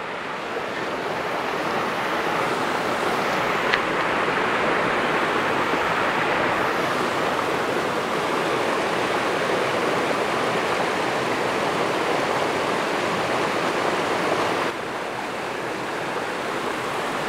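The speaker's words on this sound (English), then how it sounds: "trying to get the rapids flowing down here" Creek rapids rush past Glade Creek Grist Mill in Babcock State Park, West Virginia, a steady, dense roar of churning water heard up close with no voices.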